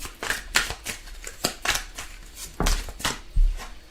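Tarot cards being drawn and handled, with a run of crisp shuffling, flicking and sliding sounds and a few soft thumps as cards are laid down, close and fairly quiet.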